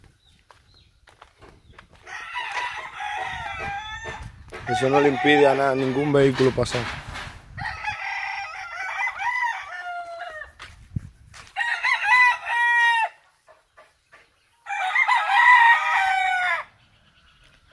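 Roosters at a farm where fighting cocks are raised crow repeatedly, several long strained calls following one another, while someone talks over and between them.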